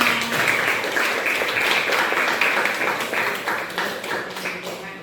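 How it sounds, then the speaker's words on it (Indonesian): A classroom of students applauding together, a dense, continuous patter of many hands clapping at fairly close range that carries on for several seconds and tapers slightly toward the end. "applause untuk setiap kita"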